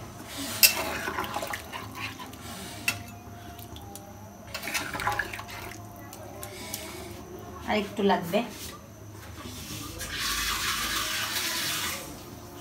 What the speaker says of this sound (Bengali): এখন আমি এর মধ্যে একটু পানি দিয়ে দেবো। আমি খুব অল্প পরিমাণেই পানি দেবো